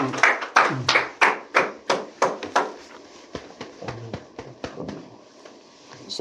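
A church congregation claps as the pastor arrives, sharp distinct claps in a steady rhythm that are loud at first and then thin out into scattered, softer hand claps, with a few low voices underneath.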